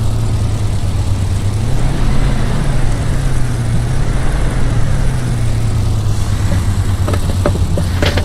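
A propeller-driven Spitfire engine in Microsoft Flight Simulator drones steadily and loudly with a low, even hum throughout, and faint higher clicks come in near the end.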